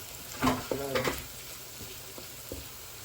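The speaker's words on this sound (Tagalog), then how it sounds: "I-golden brown natin yung bawang guys para ano?" Garlic sizzling in hot oil as it fries toward golden brown, with a few brief stirring clinks and a short voice near the start, then a soft steady crackle.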